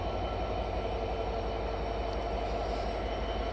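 A Panchagarh Express train stands at Dhaka Cantonment railway station, a steady low rumble of idling rail cars close by with a faint squeal or two, no voices.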